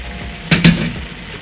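Lid lifted off a cooking pot of simmering banana flower kootu, two quick close metallic clanks in succession over a quiet kitchen background.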